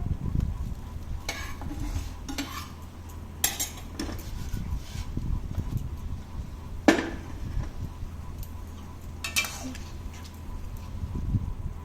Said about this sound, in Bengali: এবার সবজিগুলো ভাজা ভাজা হয়ে গেছে তার মধ্যে একটু জল দিয়ে দেব